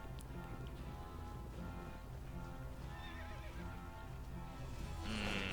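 Horses neigh and whinny amid clip-clopping hooves and battle din in the strategy game Cossacks 2: Battle for Europe, a steady dense soundscape that swells louder near the end with a sharper whinny.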